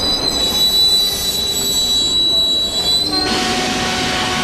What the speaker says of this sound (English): the emergency brakes activate, and the train comes to a halt.